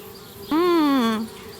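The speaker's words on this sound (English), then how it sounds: "Darn bees, trying to move into our treehouse." Game bees swarm around a treehouse in Anna's Quest, giving one loud, close, wavering buzz that lasts under a second, sliding slightly in pitch before it cuts off.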